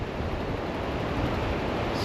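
Rough ocean surf on a beach in Vietnam, a dense continuous roar of breaking waves mixed with wind rumble, loud and unbroken.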